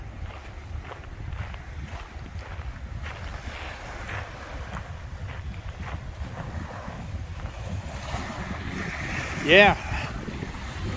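Wind-driven waves with whitecaps wash on a cold, windy beach, a broad rushing roar mixed with heavy wind buffeting the microphone; a person speaks briefly near the end.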